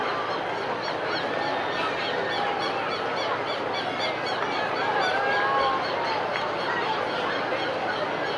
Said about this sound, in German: Die Vögel, die drehen auch durch.